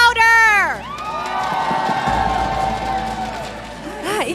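Packed Stadium Juara crowd at a Malaysian esports league match erupting in high screams and whoops, a shrill burst at the start, then a sustained roar of cheering that rises again at the end.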